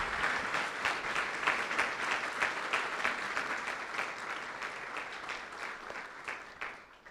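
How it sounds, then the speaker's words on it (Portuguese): A church congregation at a Baptist service applauds together with joy, a loud, dense, even wash of many hands clapping that holds for several seconds before easing at the end. "Aplauda mais uma vez o Senhor aí, né? Com alegria."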